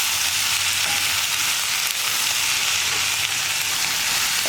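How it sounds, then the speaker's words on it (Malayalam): Sliced onions with salt and curry leaves sauté in an iron pan, giving a loud, steady, close sizzle with no speech over it. "നമ്മുടെ സവാളയൊന്ന് നന്നായിട്ട് കുക്കായി വരുന്നത് വരെ ഇടയ്ക്കിടയ്ക്കൊന്ന് ഇളക്കി കൊടുക്കുക"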